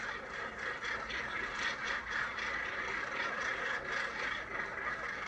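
A large northern gannet colony on a Scottish island breeding site keeps up a dense, continuous chorus of harsh calls, heard at moderate distance and fairly faint.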